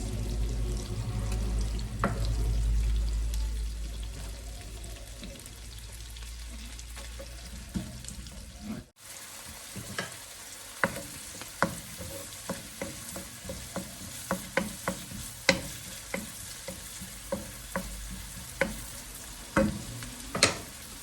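Red onions fry in oil in a pan. A low rumble comes first, then a steady sizzle punctuated by frequent sharp clicks and scrapes of stirring.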